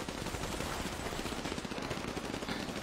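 Video game gunfire crackles in dense rapid bursts, loud and continuous like machine-gun fire and scattered shots, with no voices over it.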